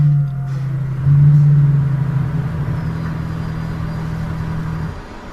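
Electric fuel pump priming on a 1987 Monte Carlo SS with an EFI conversion: a steady low mechanical hum, briefly louder near the start, holding for about five seconds before cutting off.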